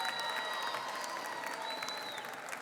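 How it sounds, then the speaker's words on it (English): An audience at a Dominican heritage ceremony applauds steadily, a dense sustained clapping with a murmuring crowd behind it, fairly loud throughout. "Let's give them a round of applause."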